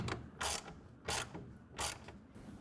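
A 1/2 inch ratchet tightens a clamp on a folding hard tonneau cover for a 2024 GM truck, with three bursts of steady mechanical clicking close by, separated by short pauses and no voices.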